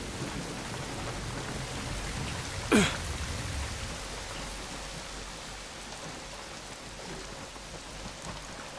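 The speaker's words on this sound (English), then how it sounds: "Falk sends you out in the pouring rain and won't even tell you what you're after" Steady pouring rain hisses throughout a rainy scene in the video game The Bureau: XCOM Declassified, with a brief sharp crack standing out near the start before the downpour continues evenly.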